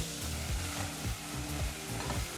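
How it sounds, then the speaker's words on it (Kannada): Onions fry on a medium flame for aloo biryani, a continuous sizzle broken by rhythmic scraping strokes of a spoon stirring the pan, close and alone. "ಮೀಡಿಯಂ ಫ್ಲೇಮ್ನಲ್ಲೇ ಈರುಳ್ಳಿನ ಚೆನ್ನಾಗಿ ಹುರ್ಕೋಬೇಕು"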